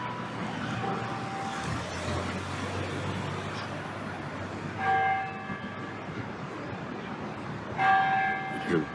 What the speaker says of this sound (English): You hear the bells going